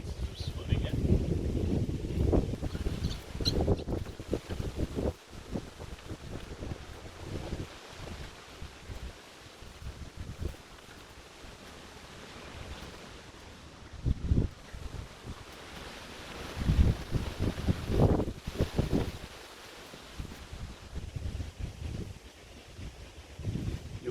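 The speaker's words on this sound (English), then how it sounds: "It's a bit windy today" Gusty wind buffets the microphone in uneven bursts, rising and falling, with faint water and a voice occasionally under the roar.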